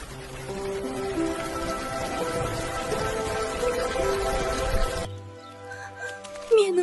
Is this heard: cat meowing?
no